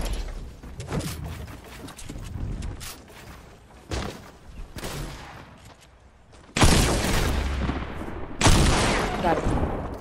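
Bursts of video game gunfire in a duos shooter match, with heavy close blasts near the end that fit a double-barrel shotgun, mixed with other shots and explosive thumps, while players talk over the action.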